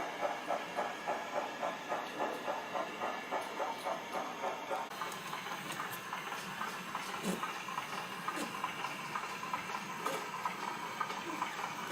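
A train eases cautiously down a steep incline toward Howdenclough Colliery, producing a steady rhythmic clatter of wagons with regular beats that continues throughout at moderate distance, with no voices.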